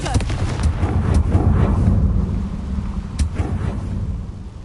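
Confringo blasting spell in Hogwarts Legacy, sharp cracks and a rumbling explosive blast that fades into a low roar, with a second sharp crack near the end and a voice speaking in between.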